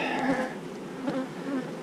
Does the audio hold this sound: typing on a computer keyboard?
no